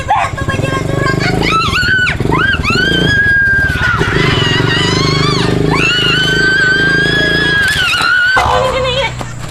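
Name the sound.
motorcycle engine running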